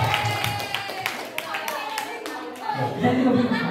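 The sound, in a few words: group clapping hands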